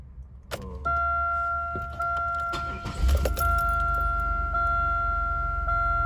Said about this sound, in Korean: 여기 보시면 시동을 걸면